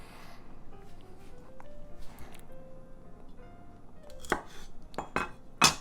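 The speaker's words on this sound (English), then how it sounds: "I'm going to cut the ends off like this." A knife clicks sharply several times on a cutting board as the ends are trimmed off a single garlic clove, faint close taps near the end over a quiet kitchen room.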